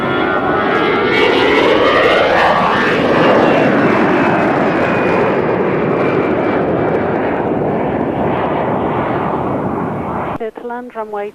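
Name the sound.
Antonov An-124 aircraft close up at airfield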